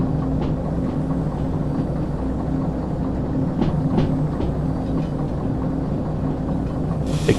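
A train in the Derail Valley railway simulator rolls along while braking, giving a steady, loud mechanical rumble with a faint humming drone and occasional soft clanks throughout.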